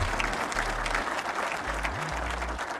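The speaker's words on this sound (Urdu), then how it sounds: "بھائی تالیاں لگائیں" Audience applause at a government event where the Pakistani prime minister announces electricity price cuts, steady broad clapping from a hall crowd throughout, with a low hum underneath.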